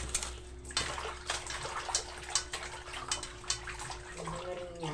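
Tap water running and splashing while squash, long beans and meat are washed in a kitchen, a soft steady stream with intermittent splashes and handling clatter, fairly quiet, no speech over it.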